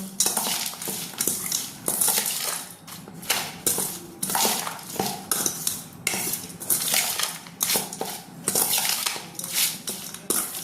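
A spoon clatters and scrapes around a bowl as jhalmuri with boiled chickpeas and peanuts is mixed, in rhythmic repeated strokes that are close and fairly loud, with no talking.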